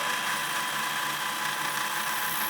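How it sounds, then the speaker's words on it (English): A lathe turns a rusty, painted hub on a shaft held in the chuck, giving a steady whirring, scraping hiss without breaks, close and loud. "as it was in the lathe anyway, this seemed like a good way of cleaning all the rust and paint off it"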